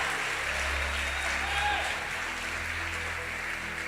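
A church congregation applauds during a sermon, with dense, sustained clapping and crowd noise that holds steady throughout.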